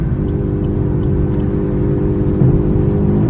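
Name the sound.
car engine and exhaust burble from a burble tune, accelerating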